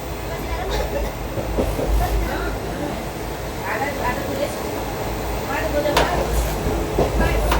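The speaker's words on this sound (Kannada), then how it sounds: "ಈಗ ನಮ್ಮ ಟ್ರೈನ್ ಮೂವ್ ಆಗ್ತಾ ಇದೆ" A passenger express train rumbles continuously, heard from onboard, with a low, rhythmic clatter of wheels and a few sharp clanks, while people talk faintly in the background.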